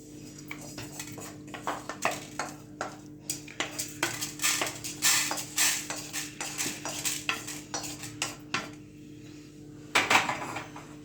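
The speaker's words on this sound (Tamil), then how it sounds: "வரிசையாக ஒவ்வொரு பொருளையாக வறுத்துக்கிட்டு உங்களுக்கு காமிக்கிறேன்." Ingredients for murungai keerai podi dry-roast in a pan, heard as rhythmic scraping and clinking of a metal spoon against the pan with a low steady hum underneath, close and moderate in level, no talking.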